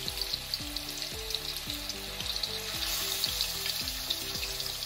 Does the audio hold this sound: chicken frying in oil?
yes